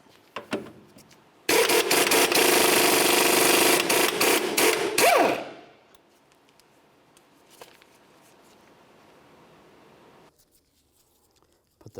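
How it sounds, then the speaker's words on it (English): An 18mm socket on a power tool spins off the outer tie rod end nut of a 2005-2010 Chevrolet Cobalt, a loud, continuous rattling burst lasting a few seconds before dropping to quiet garage ambience. "To remove this, we're going to use an 18mm socket."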